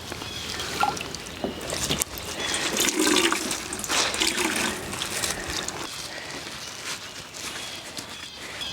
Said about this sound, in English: Squeeze it under the water.